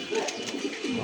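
Pigeons cooing in a loft holding German Beauty and yellow Lahori breeds, a soft continuous burble of throaty coos from several birds close by.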